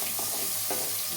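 Curry leaves dropped into hot oil for a village-style cowpea kuzhambu, a dense steady sizzle close by with a few soft stirring knocks, no speech.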